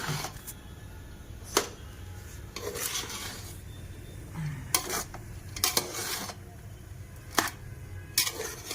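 Chicken being mixed with vinegar in a bowl, with repeated scraping and rubbing strokes of a utensil against the bowl at an irregular rhythm, fairly quiet and close.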